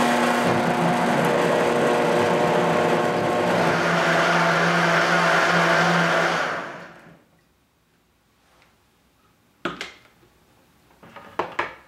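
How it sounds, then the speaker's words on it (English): Blender whirring through hot roasted creamy tomato basil soup, a loud steady motor roar for about six seconds before spinning down to near silence, followed by a few faint clatters. "Put the lid back on and I'm going to blend this for maybe about 40 seconds."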